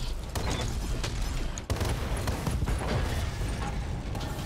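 Mech weapons firing a precision strike in the video game Battletech: a loud burst of overlapping shots and impacts, a sharp blast midway, then continued rattling fire and booms.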